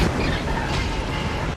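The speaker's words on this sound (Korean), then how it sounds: "그때 폭발음과 함께 기내는 아수라장이 되어버립니다." An explosion aboard an airplane in a film erupts as a loud, sustained roaring blast with broad rumbling noise that fills the moment and cuts off abruptly at the end.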